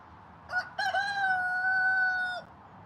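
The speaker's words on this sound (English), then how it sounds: "Apollo, you see the chickens?" A single rooster crows once, a loud, drawn-out cock-a-doodle-doo close by, preceded by a short squawk.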